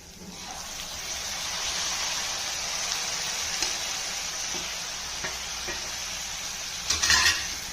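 Tomatoes tossed into softened onions hiss and sizzle steadily in a hot pan, with soft scraping stirs and a few clinks of the spoon toward the end.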